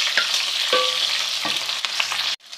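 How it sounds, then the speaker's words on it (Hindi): Green chillies frying in oil over a low flame for a green chilli gravy, a steady close sizzle with a few sharp stirring scrapes, cutting off abruptly near the end. "तीन से चार मिनट हरी मिर्चों को हमने फ्राई करना है, फ्लेम को लो रखना है"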